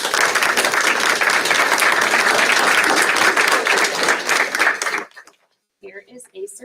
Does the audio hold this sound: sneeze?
no